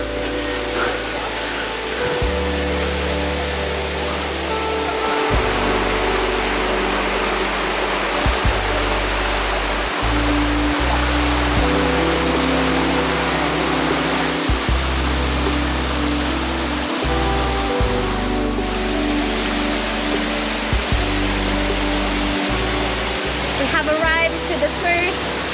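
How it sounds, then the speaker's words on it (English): Waterfall roughly 8 to 10 meters high in a jungle, a loud continuous broadband roar that fills the whole stretch without letup. "Waterfall. This is about 8 to 10 meters high"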